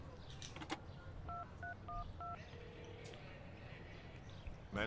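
Four short dial tones from a telephone keypad in the Prison Break video game on PS3, evenly spaced, over a low game background, with a brief higher tone after.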